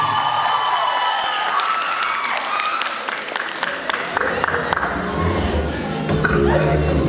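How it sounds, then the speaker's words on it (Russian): Audience applause rolls through a hall at a winter cosplay fashion show in an Asian-themed costume parade, steady dense clapping throughout with a few sharper claps standing out and scattered crowd voices underneath. "Аплодисменты."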